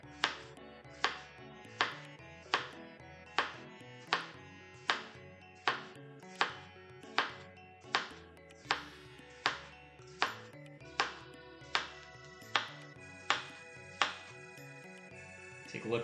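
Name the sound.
knife slicing cucumber thinly on a cutting board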